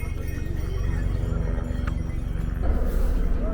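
Horses and mules walk along a mountain trekking road to Kedarnath with repeated hoof clops over a steady rumbling background, growing a little louder near the end.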